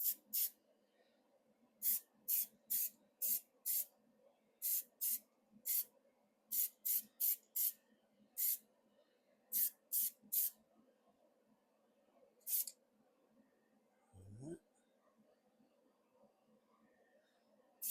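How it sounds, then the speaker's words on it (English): A spray paint can lays light coats on a vehicle seat in a series of short, sharp hissing bursts, some in quick pairs and others spaced out, close and fairly crisp over a quiet background hum. "I am going to spray this with some Black & Decker, okay?"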